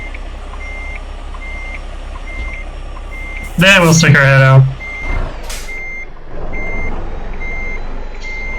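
A truck in American Truck Simulator reverses with a steady run of evenly spaced backup beeps, clear and continuous under the engine idle. Someone speaks briefly partway through, and the beeping carries on throughout.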